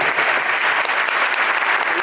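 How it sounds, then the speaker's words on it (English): A crowd applauds for a city mayor at a community event with local youth, dense continuous clapping filling the space, loud and close throughout. "Let's give the mayor a round of applause."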